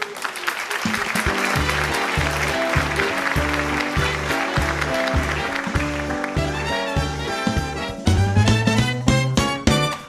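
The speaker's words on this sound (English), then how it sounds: "let's have a warm round of applause for Franklin C." An audience applauds Franklin C. Stiff on a cooking show. The sustained clapping is mixed under loud music with a steady beat, and the music turns sharper and more percussive near the end.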